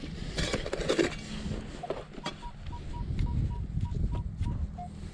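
A handheld metal detector over a buried target on a drought-dried California lake bottom gives a string of short, evenly spaced signal beeps, preceded by scraping and digging noise from the dig site.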